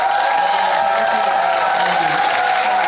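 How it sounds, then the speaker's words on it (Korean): An audience at a youth foundation's anniversary vision ceremony in Siheung sends up dense, continuous cheering and clapping, loud and sustained throughout. "같이 환호 한번 질러볼까요?"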